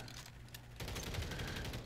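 Gunfire crackles in a battlefield video game where a KAR98K rifle is in use, a dense continuous barrage of overlapping shots that thickens partway through, fairly faint and without speech.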